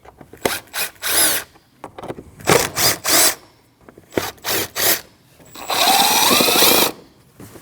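A power tool unfastens the four 8 mm bolts on the air cleaner box of a 2013-2019 Ford Escape, giving loud, close bursts of whirring in short repeated pulses, then one longer run near the end.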